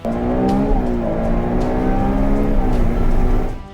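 A Ferrari 296 GTB engine revs high toward 9,000 RPM, its loud, layered harmonic wail holding steady for several seconds before easing off at the end, with no voices.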